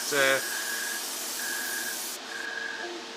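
An airbrush on low pressure sprays a steady, breathy hiss of matte coat onto a Tamiya 1:35 scale Russian T-55A medium tank model, with faint tonal hums underneath before the spray cuts off near the end.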